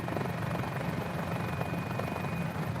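Got Friends Mini-500 helicopter in Microsoft Flight Simulator hover-taxiing along a runway in Fiji, a constant loud rotor and engine whine with a steady high tone throughout.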